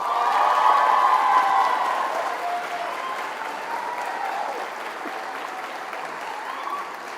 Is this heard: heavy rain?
no